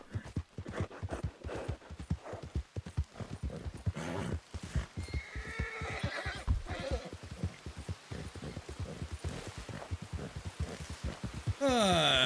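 A horse called War in a video game trots with steady clip-clop hoofbeats throughout, then lets out a loud whinny near the end; no one talks.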